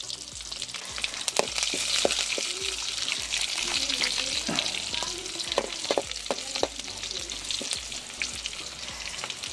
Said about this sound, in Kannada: ಬೆಳ್ಳುಳ್ಳಿ, ಇಷ್ಟು ಎಲ್ಲ ಒಗ್ಗರಣೆ ಮಾಡಬೇಕು.